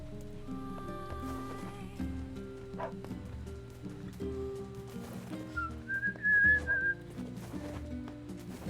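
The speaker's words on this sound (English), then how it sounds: "I should not whistle the music, though." A person whistles a short melodic phrase from video game music over the game's own tonal soundtrack, the whistle rising and wavering for about a second near the end.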